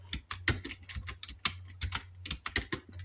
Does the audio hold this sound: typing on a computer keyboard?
yes